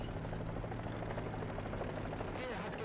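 A helicopter flies in the War Thunder combat game, its rotor and engine drone holding steady and fairly close, mixed with game noise and scattered gunfire throughout.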